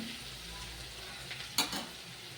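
Potato pieces and peanuts fry quietly in a pan for chire pulao, a soft continuous sizzle with a short burst of stirring clatter partway through.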